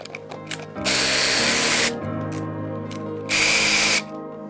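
A power drill or impact driver backs out the brake-side bolts on a Honda Grom motorcycle, two loud sustained bursts of whirring with a quieter mechanical hum between them, close up and without talk.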